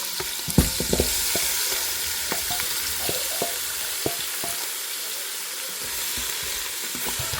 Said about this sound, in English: I'm gonna let it saute like for maybe 20 minutes or so until it's release its water